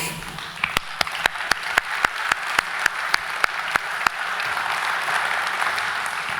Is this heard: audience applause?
yes